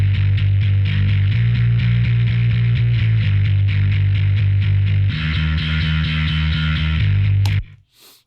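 A distorted bass guitar from a band mix is played hard with dense, gritty sustained notes that drive continuously and loudly. The texture thickens partway through, then cuts off abruptly near the end.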